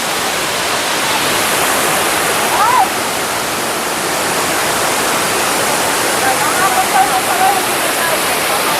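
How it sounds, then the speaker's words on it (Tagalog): A river waterfall roars as a constant broadband rush of falling water, loud and close, with a faint voice briefly audible over it. "Dito, mayroong falls pa rin."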